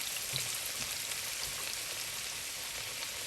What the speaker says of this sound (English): I always like this sizzling sound of the frying onions